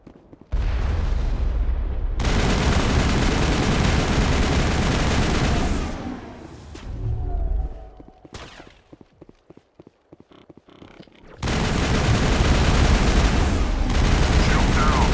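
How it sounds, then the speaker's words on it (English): A gun turret in the video game Mass Effect fires in loud, dense sustained bursts, pauses for several seconds during a quieter stretch of game sounds, then resumes near the end. "There must be a way to shut that gun down."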